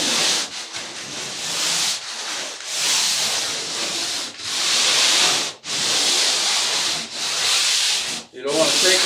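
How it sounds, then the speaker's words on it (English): An electric sander runs lightly over a freshly textured wall, a close, loud rasping hiss that comes in long strokes broken by several brief pauses as the pad lifts. "you want to take your sander, just do a really light sanding on it"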